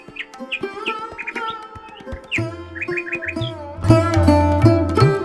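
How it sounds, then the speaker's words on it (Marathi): Birds chirp from trees at dawn, with many short, bright calls repeating in quick clusters over a steady tonal background. "पहाटे पहाटे झाडांवर बसलेल्या पक्ष्यांचा आवाज"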